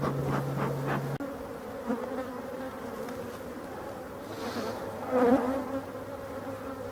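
Honey bees buzz steadily at an open hive during a varroa treatment with Apivar strips, a close, continuous droning hum with faint handling noises.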